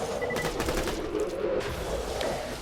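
Rapid gunfire from slag elemental weapons in the Borderlands video game, a dense sustained fusillade of overlapping shots with steady loudness throughout.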